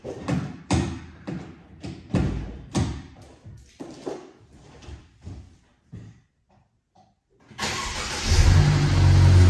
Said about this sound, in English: So the thing is now is that to start the car, let it run, and it should seal itself.